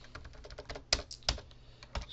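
Fingers tap out a quick run on a computer keyboard, a string of light clicks with a couple of sharper, heavier keystrokes, close and alone in a quiet room.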